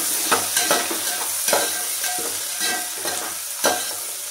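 Khichdi being stirred in a hot pan, with a spoon scraping through it in repeated strokes over a steady close sizzle.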